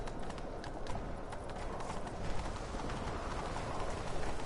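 Hooves pound in a fast, rhythmic gallop of a horse in the video game The Witcher 3, over a continuous noisy background, fairly close and steady throughout.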